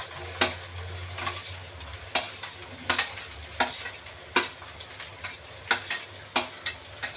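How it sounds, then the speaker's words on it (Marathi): Onion sizzles in hot oil with crushed garlic and green chili in a pan, with rhythmic spatula strokes clacking roughly every half-second over a continuous frying hiss, close and clear with no talking. "आता यातच टाकते कांदा"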